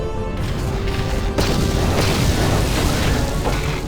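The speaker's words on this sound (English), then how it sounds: "It was an explosion of some kind." A deep boom from an explosion in the video game Star Wars: Knights of the Old Republic, a heavy burst with a rumbling tail that carries on loudly, no talking.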